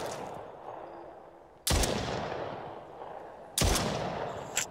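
Two loud gunshots sound in The Brookhaven Experiment video game, a couple of seconds apart, each a sharp crack with a long decaying echo over a low background hum.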